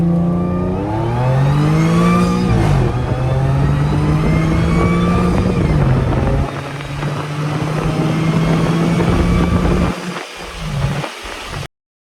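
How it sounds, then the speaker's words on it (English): A loud supercharged Audi S4 engine with traction control off revs up and down repeatedly, the rising and falling pitch sustained throughout, with a brief drop and sputter near the end. "I want you guys to hear how loud the supercharger is"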